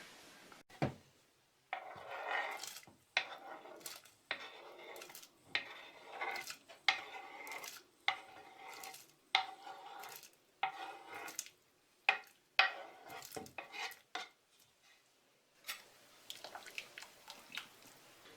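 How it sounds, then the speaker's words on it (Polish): Repeated clatter and scraping of chopped ingredients tumbling into a boiling pot of white borscht with sauerkraut, with short irregular knocks and rustles, close by and moderately loud, no talking. "te wszystkie pokrojone składniki dodam do gotującej się zupy"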